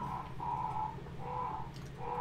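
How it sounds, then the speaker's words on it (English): Crows caw in Resident Evil HD Remaster, four drawn-out calls repeating in a slow, even rhythm over a low steady background hum, with no talk. "So these crows do not attack us."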